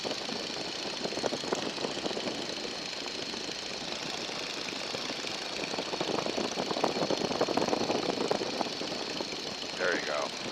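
A small propeller aircraft engine throttled back to about 1600 RPM drones steadily in flight, a continuous mid-pitched hum with faint rattle, heard from the cockpit while a voice talks over it.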